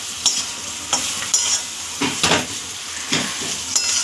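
Ground masala and stuffed green chillies cooking in a pan, a continuous sizzle broken by repeated scraping strokes of a spoon stirring, close and moderately loud, with no talking.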